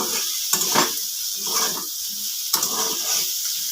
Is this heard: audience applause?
no